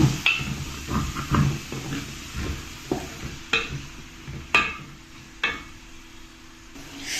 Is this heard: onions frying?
yes